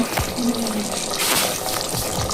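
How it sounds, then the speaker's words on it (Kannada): Running water rushes and gushes steadily while rice is washed in a home kitchen, a continuous near splashing stream with no talking. "ಇವಾಗ ಅಕ್ಕಿ ತೊಳ್ಕೊಂಡು ಅಕ್ಕಿ ಹಾಕ್ಬೇಕು ತಾನೇ"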